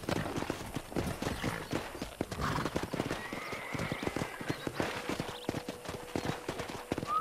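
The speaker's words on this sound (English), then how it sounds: "there's a pack of wild horses nearby" Rapid clip-clop of wild horses galloping in Red Dead Redemption, with a horse whinnying over the top, busy and continuous, with a few faint game sounds mixed in.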